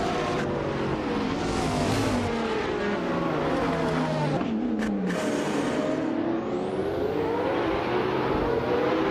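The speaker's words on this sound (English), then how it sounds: "the race just kicked off at the Baikoniki Oval track" A 2015 McLaren P1 GT and other race cars roar off the start on an oval track in a racing game, a loud continuous engine drone with rising and shifting revs throughout, no voices.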